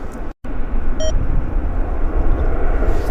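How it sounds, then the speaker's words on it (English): Air Canada 860 airliner departing Vancouver for London Heathrow, a loud steady jet roar filling the scene, broken by a short dropout and a brief electronic beep. "This aircraft here is heading to Heathrow Airport."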